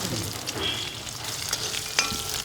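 Mustard seeds and curry leaves fry in hot coconut oil in a Kerala kitchen, giving a steady close crackling sizzle with small pops and a brief stirring clatter, no voices.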